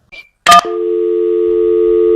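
A telephone receiver is set down with a sharp clack, and a steady dial tone then sounds loud and continuous.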